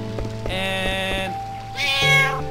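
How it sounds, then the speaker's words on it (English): A cartoon cat meows in Final Fantasy 9, two tonal meow calls, the first sustained and the second rising, heard clearly over a soft rhythmic game music backdrop. "Oh, it's a kitty!"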